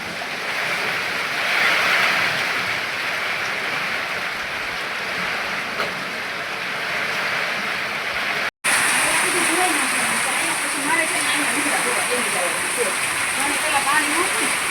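Heavy downpour pours steadily outdoors, a dense, loud wash of rain that fills the whole stretch with little change, broken only by one brief cut partway through, while people talk underneath.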